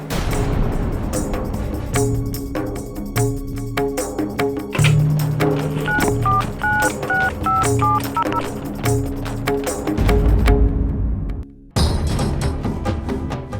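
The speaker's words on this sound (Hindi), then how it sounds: "मैं सीआईडी ऑफिसर दुष्यंत को फोन लगाती हूँ।" A rapid series of telephone keypad tones, short beeps in quick succession, followed by a pause and a brief click of noise, with no talking.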